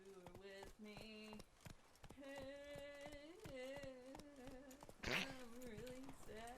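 Horse hooves from Witcher 3: Blood and Wine, a quick run of sharp clip-clop hits close by, layered over a bright, faint musical melody.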